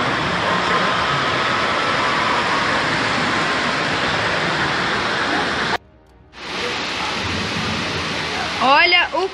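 Heavy torrential rainstorm during a city flood, loud dense rain roaring steadily, briefly cutting out before resuming, with a few faint chirping sounds near the end.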